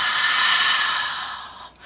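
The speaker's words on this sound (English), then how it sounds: "I want you to make a ha sound, okay? So imagine like you're fogging up like a glass window" A single long, breathy exhale, a deliberate open-mouthed "ha" like fogging a glass window, demonstrating Ujjayi yoga breathing. It is close and steady, tapers off near the end, and has no speech.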